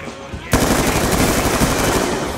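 Rapid automatic gunfire erupts loud and close in Black Ops 2, a dense burst of shots that starts abruptly and keeps going under faint voices.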